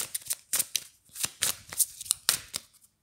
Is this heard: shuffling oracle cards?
yes